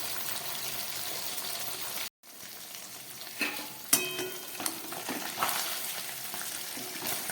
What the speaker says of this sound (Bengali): মাছগুলোর এক পিঠ ভাজা হয়ে গেছে, আমি উল্টে দিয়েছি। আর এক পিঠ ভাজা হোক,